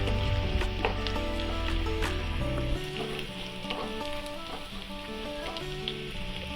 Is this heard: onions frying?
yes